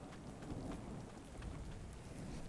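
Steady rain falls in ARK: The Island Ascended, a dense, even hiss of downpour with a low rumbling undertone, continuous and fairly loud with no voices.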